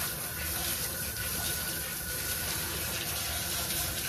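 Running water rinses a wet puppy during a bath at a sink, a steady broadband gush and splash continuing throughout at moderate level with no break.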